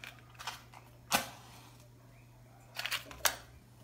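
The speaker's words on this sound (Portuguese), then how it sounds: "Aqui eu vou acender com fósforo, mas você pode acender com isqueiro, do jeito que você fuma." A wooden match struck to light a cigarette, with two brief, sharp scratchy strikes about two seconds apart, each followed by a soft crackle, over a quiet low hum.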